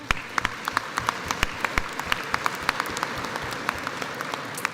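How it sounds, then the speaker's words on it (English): Audience applause at a spring commencement ceremony, a dense steady patter of many hands with sharper individual claps standing out, moderately loud and without talk. "I think that deserves an applause."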